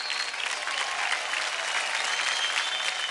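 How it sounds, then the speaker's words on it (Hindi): Audience applause on a children's dance competition show, steady dense clapping that holds at full strength throughout with no voices over it. "जोरदार ताली हो जाए तुषार कपूर के लिए।"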